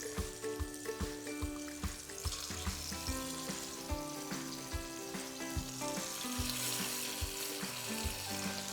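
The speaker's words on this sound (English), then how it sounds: "Oh, good sizzle." Pork hits hot oil in a heated pot and sears with a loud, steady sizzle and crackle, with intermittent spattering pops throughout and no talking.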